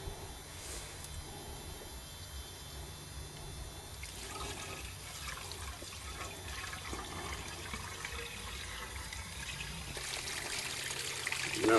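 Water from a bucket pours into a tanker's pump to prime it, making a soft, continuous trickle and gurgle that stays faint and grows a little louder toward the end.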